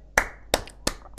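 Four sharp, separate hand claps, evenly spaced and close, with quiet pauses between them and no talking.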